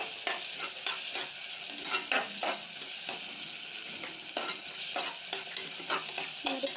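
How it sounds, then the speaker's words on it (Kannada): Onions frying in a pan for palav, with a steady broadband sizzle and repeated scraping strokes of a spoon stirring at an irregular pace, close and moderately loud, with no voices. "ಈರುಳ್ಳಿ ಸ್ವಲ್ಪ ಬ್ರೌನಿಷ್ ಕಲರ್ ಆಗಲಿ"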